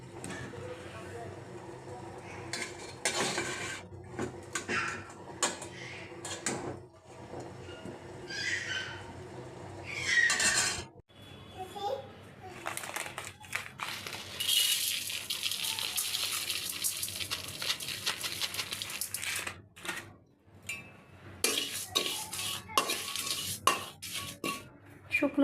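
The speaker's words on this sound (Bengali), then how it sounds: "এখন আমি এগুলো ছেঁকে নিব" Boiled olives being strained in a home kitchen, with intermittent clatter of pots, utensils and a strainer, splashing pours and scraping, fairly quiet with gaps between bursts.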